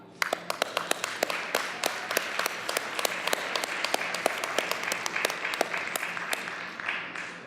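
A modest audience at a school board of education meeting applauds the board members, with a bed of clapping punctuated by sharp, distinct individual claps throughout, steady until a slight fade at the end.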